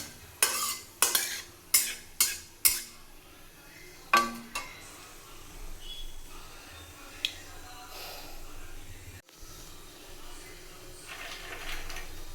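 Dried red chilli and radhuni seeds hit hot oil in a pan, a quick run of sharp crackling pops at the start followed by a softer, steady sizzle that settles down with occasional clinks.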